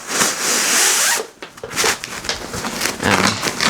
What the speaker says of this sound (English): you can hear that that's now connected to the Velcro